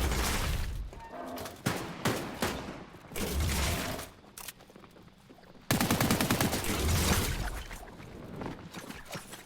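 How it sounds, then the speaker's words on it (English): Rapid automatic gunfire rattles loudly in a battle-royale video game, coming in long bursts and fusillades with short breaks and sharp impacts in between. "I'm just trying to shoot everyone I see"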